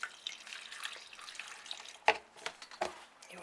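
Fertilised water trickles and splashes over orchid bark, close and fairly quiet, with a continuous wet patter and a few sharper drips and knocks, no talk.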